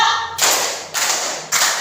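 Children in a classroom clap hands together in unison, three loud, evenly spaced group claps ringing out one after another with little talk in between.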